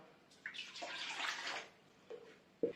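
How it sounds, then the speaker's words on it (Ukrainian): Warm water pours from a container into a bowl for bread dough, a short splashing gush close by, followed by a couple of faint knocks as the bowl and vessel are set down. "Беру миску, виливаю водичку."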